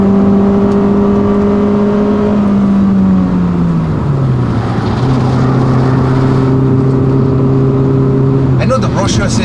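A Hyundai i30 engine on a test drive, its steady drone dropping in pitch about halfway as if shifting gear, then holding even before a brief rising burst near the end.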